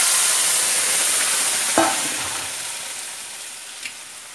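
Boiled chickpeas and onions frying in a pan for a chickpea curry, a broad steady sizzle that slowly fades, with a couple of soft stirring scrapes, close and unaccompanied by speech.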